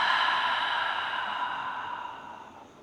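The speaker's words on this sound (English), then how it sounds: "Taking a collective exhale" A group of people exhaling together during yoga practice, a soft, breathy sigh that begins full and gradually tapers away over a few seconds.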